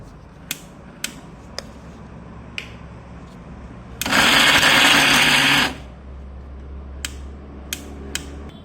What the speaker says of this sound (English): I'll put this in the grinder and grind it into a